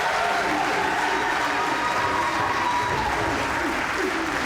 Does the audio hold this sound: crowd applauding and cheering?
yes